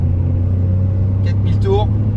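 A Peugeot 208 engine at full throttle on a country road, heard from inside the car as a loud, steady low drone and rumble with three occupants aboard; someone talks briefly over it.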